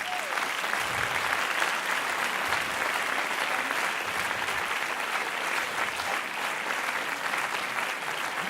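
Steady, dense audience applause fills a hall after a fantaisiste singer's performance at an event celebrating audacity, continuous and moderately loud with a faint murmur of voices beneath.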